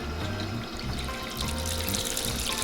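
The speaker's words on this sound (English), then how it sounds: "so I can control, just by turning that, the flow of the water" Water gushes steadily from a garden hose, its flow set by a valve on a small sluice rig by the Red Deer River, a close, continuous splashing rush.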